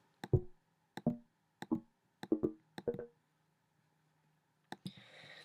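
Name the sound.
synthetic percussive synth sounds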